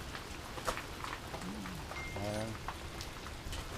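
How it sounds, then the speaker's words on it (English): Steady rain pattering on a surface, a constant close wash of drops with a few faint tonal chirps in the background. "the rain kept going"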